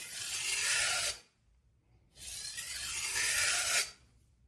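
A chef knife is drawn in clean strokes along its bevel against a sharpening stone, giving two long, even rasping passes separated by a short pause, close and steady with no talking.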